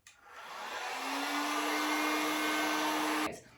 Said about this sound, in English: I'm going to go ahead, dry it up real quick with the heat gun.